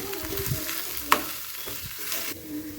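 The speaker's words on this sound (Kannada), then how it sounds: "ಕೊತ್ತಂಬರಿ ಸೊಪ್ಪನ್ನು ಹಾಕ್ಕೊಂಡು ಮತ್ತೆ ಚೆನ್ನಾಗಿ ಮಿಕ್ಸ್ ಮಾಡ್ಕೊಂಡ್ಬಿಡ್ತೀನಿ" A spoon stirring vada pav potato stuffing mixed with chopped coriander in a pan, soft scraping and light sizzling with a single sharp clink partway through, fairly quiet and with no talk.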